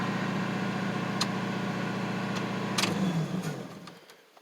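Engine of a 1999 Ford F250 pickup running steadily after starting, a low even rumbling idle close by that settles and fades out at the end, with a couple of faint clicks.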